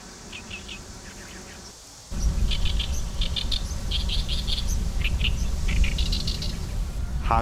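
Birds at the Han River estuary give repeated short chirping calls in quick clusters, moderately near, over a steady wash of wind or water noise that swells partway through.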